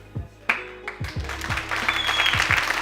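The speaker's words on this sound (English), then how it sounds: "So give yourselves a round of applause." Audience at a South Bronx youth anti-violence event breaks into a round of applause, building from scattered claps into dense steady clapping, with some low thumps early on.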